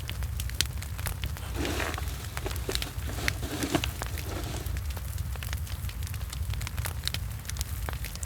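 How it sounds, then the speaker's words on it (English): A campfire crackles steadily beside a river, with sharp pops and snaps scattered over a low continuous rumble, close and fairly loud, no talking. "blending with the crackling of the fire and the murmuring of the river"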